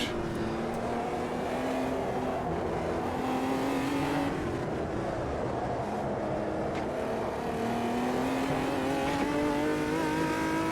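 A 1999 Omega Stock Car in the racing sim AMS2 drones on a steady, loud engine note that rises and falls gently under light throttle through hairpins, with a faint whine layered over the continuous rumble.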